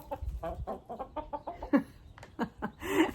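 Chickens cluck and peck at a bag of mealworms in short, irregular bursts at close range, with soft tapping and rustling between the calls.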